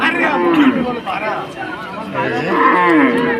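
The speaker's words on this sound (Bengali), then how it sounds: "অনেক সুন্দর একটা গাভী" A dairy cow at a village cattle market in Brahmanbaria lows in two drawn-out moos, near and loud, with people talking in the background.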